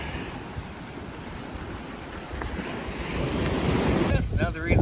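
Ocean surf washes in steadily at Surfers Beach, Puerto Rico, on a calm, flat day, heavy wind buffeting the microphone throughout, with a brief voice near the end.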